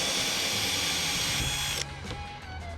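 A power tool drives a screw into timber while building a square drop camper door, a loud continuous motor whine that drops off sharply near the end, followed by a quieter winding-down sound.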